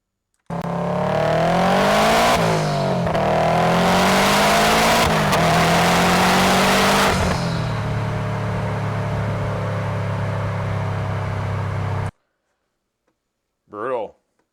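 Raw road and wind noise recorded inside a moving car: a loud, constant broadband roar with a low engine hum. It cuts off abruptly, and a brief voice follows after a pause.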